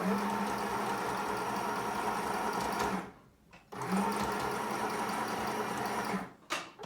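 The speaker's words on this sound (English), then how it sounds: "And then once you start sewing, you always want to back stitch to secure the stitch." A sewing machine runs back stitching in two steady whirring bursts of about three seconds each, separated by a short pause, close and fairly loud with no talking.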